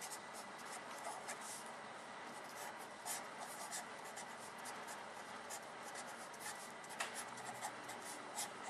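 A pen scratches across paper while someone works a math exam problem, giving close, steady rubbing and scribbling strokes with small taps throughout, with no voice over it.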